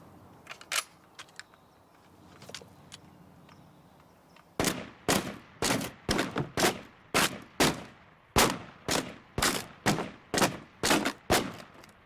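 Gunshots at shooting practice: a few distant pops, then a rapid run of about fifteen loud, sharp shots at a steady, quick pace, with no talk.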